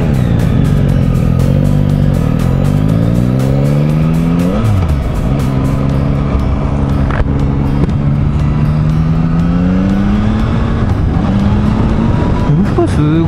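Yamaha XSR900 / MT-09 motorcycle engine revving hard toward high rpm during a test ride. Loud and close, its pitch climbs and drops in repeated acceleration sweeps, with voices talking over it.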